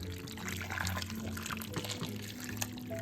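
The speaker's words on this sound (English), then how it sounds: "I am using the tea kettle to fill this up with water. The water is hot" Hot water pours from a tea kettle into a container, a close and fairly quiet splashing trickle with no talk.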